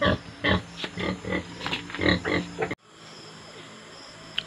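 Pigs in a pig pen grunt and oink in repeated bursts, close and loud, before the sound cuts to quieter background noise.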